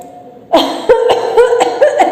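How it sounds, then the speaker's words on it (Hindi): Repeated loud coughing in a rough, rhythmic series of hacking bursts, close by, with a strained voiced quality between coughs. "खांसी छिड़ गई।"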